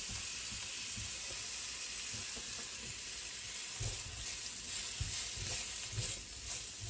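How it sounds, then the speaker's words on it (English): Breakfast sausage sautés in a pan, a steady close sizzle and crackle running unbroken throughout, with a few soft stirring knocks and no voices. "I just want to saute that just a minute"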